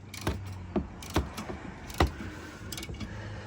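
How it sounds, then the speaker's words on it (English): Ratchet turning bolts on the exhaust of a Polaris Sportsman 110 ATV gives sharp clicking strokes, about five distinct clacks at irregular intervals, close and moderately loud. "Make sure the ratchet stays on, it doesn't come off."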